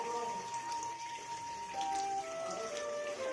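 Cold water streams steadily from a hillside spring at a crowded mountain temple site, a continuous splashing flow with faint tones of a busy crowd mixed in.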